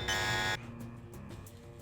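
An alarm in Deus Ex Revision blares as a harsh, buzzing electronic tone for about half a second, then cuts off abruptly, leaving quieter room ambience.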